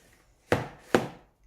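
A knife cuts through bread dough twice, giving two crisp, close thuds on a board about half a second apart, with quiet in between.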